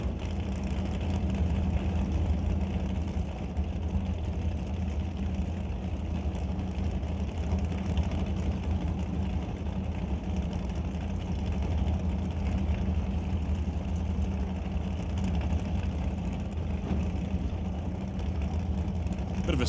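Drag racing cars idle at a Super Pro race, one a dragster with a 615 cubic inch big block Chevy engine. The deep engine rumble stays loud and continuous and barely changes.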